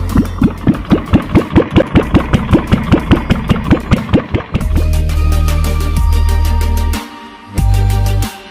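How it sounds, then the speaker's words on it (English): A heavy tractor-like machine cutting a cement water duct chugs in rapid, regular pulses, then settles into a steady, loud drone with a brief dip near the end. "Tractor-like machine carves out and creates a cement water duct."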